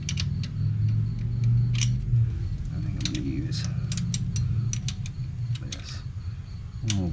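A ratchet works a 10 mm bolt loose on a BMW engine during a compression test, making repeated close clicking and ticking pawl sounds over a steady low background hum, with brief metallic creaks.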